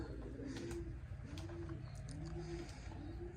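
Pigeons coo softly and rhythmically, giving about four rounded, repeated coo phrases. A steady low background rumble runs underneath the calls.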